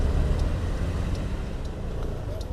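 Dolmuş minibuses crowd a wide square in Turkey, making a steady, dense rumble of engines and traffic with no breaks.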